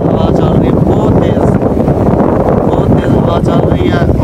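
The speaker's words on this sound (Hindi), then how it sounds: "बहुत तेज़ हवा चल रही है" Strong wind buffets the microphone in a sandy outdoor area, a loud continuous rumbling roar that fills the whole stretch with no pauses.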